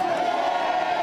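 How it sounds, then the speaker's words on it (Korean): A crowd at a March 1st Independence Movement Day commemoration at Pungnammun Square in Jeonju raises a sustained shout of independence cheers, one continuous mass of voices held for a moment without individual words standing out. "대한독립만세라는 힘찬 함성이 울려 퍼졌습니다"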